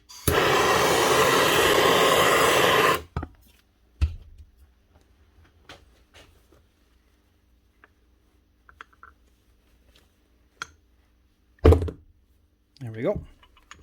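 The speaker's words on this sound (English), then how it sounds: "Bit of heat and see if it'll fall out." A heat gun blows with a loud steady roar for about three seconds while heating a bearing housing on a Rotabroach Element 40 low-profile magnetic drill, then cuts off, leaving scattered metallic clicks and knocks from handling the part.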